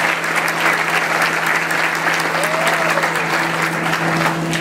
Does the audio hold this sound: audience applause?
yes